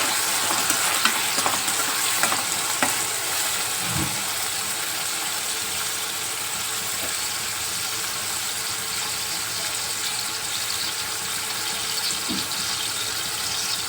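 Onion and tomatoes frying in a pan, a loud, continuous sizzle that holds steady throughout, with a couple of soft knocks from stirring and no voices.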